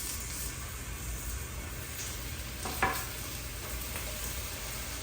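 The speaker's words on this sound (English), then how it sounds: "You hear that sizzling?" Steady, even sizzling of blackened redfish on the half shell frying in a pan, a continuous hiss with a brief clatter partway through, no voices.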